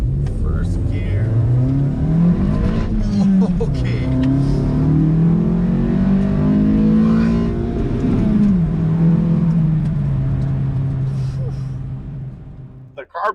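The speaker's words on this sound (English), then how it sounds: "The car pulls really hard now." A Skyactiv Mazda with a power tune accelerates hard in first gear, the engine revving loudly and rising in pitch up to a shift, heard from inside the car with a brief spoken word.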